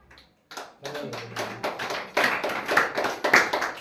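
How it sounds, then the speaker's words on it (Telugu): A congregation at a Telugu Christian sermon breaks into clapping that builds from scattered claps into rapid, fairly close, irregular bursts, with a voice briefly heard at the start. "చప్పట్లు కొడుతున్నారు"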